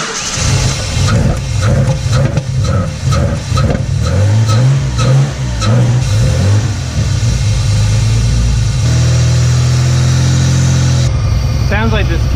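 A Mitsubishi 3000GT VR4 twin-turbo engine loud and close, running with rough, lumpy pulses and rising revs before settling into a steadier drone, while a person speaks over it.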